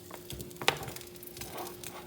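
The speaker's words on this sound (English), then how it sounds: "So our Spam's frying up back here in this other pan." Quiet sizzling from Spam frying in a pan, soft crackles and a brief sharp tick, close and low in level.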